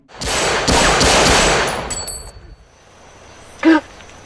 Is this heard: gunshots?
yes